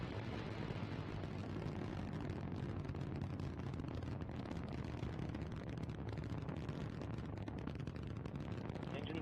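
Antares rocket engines running at full thrust during a launch, a deep, continuous broadband roar that stays loud and steady throughout with no breaks, heard from a distance without any talk over it.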